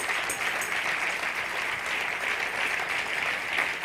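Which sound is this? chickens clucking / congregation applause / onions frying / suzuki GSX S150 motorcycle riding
congregation applause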